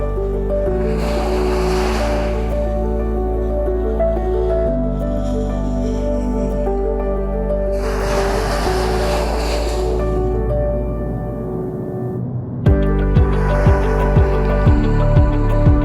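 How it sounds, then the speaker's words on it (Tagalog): Water surges and washes at a river outlet at high tide as seawater pushes inland, broad bursts of surf noise rising and falling over a constant low drone, with sharper splashing pulses near the end and no talk. "Matubig ngayon dito sa river outlet dahil high tide."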